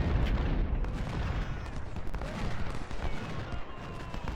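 Dense, continuous battlefield cannon and gunfire from Ultimate General: Civil War at the Bayou Fourche fight, with booms overlapping steadily and loudly throughout and no clear pauses.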